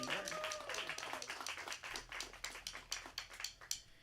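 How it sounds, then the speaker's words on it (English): Live concert audience giving a round of applause: dense, continuous clapping from a crowd, fairly close, with voices mixed in. "One more round of applause for John"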